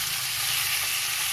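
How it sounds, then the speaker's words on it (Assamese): Meat sizzles steadily as it is stirred and fried with spices in a pan, a continuous close crackling hiss with no talk over it. "এতিয়া মছলাৰ লগত মাংসখিনি ভালদৰে মিক্স কৰাকৈ লৰাই থাকিম"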